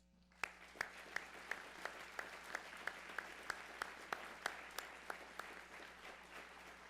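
An audience at the UW-Parkside fall convocation applauds the 2014-2015 honorees, with a steady wash of clapping and a few louder, evenly spaced claps standing out over it. Faint, moderate in level, with no one speaking.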